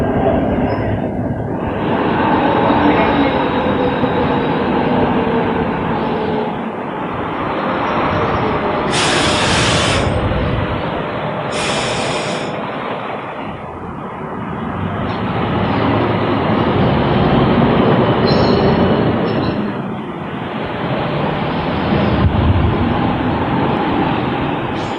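A Sheffield tram runs along its rails with a loud, steady rumble and clatter, and two brief high wheel squeals rise near the middle. No one speaks.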